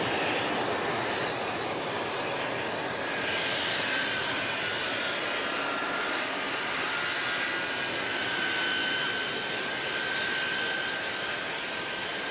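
A departing airplane's engines give a loud, continuous roar with a high whine layered over it, holding steady for about twelve seconds and swelling slightly, with no voices.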